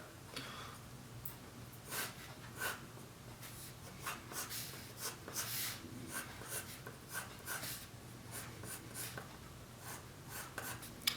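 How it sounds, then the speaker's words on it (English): A pencil scratches and strokes across paper while a Magikarp cartoon is sketched step by step, quiet close-up marks coming in short bursts and longer scribbles, with no talk over them. "I'm going to start drawing those triangles in there"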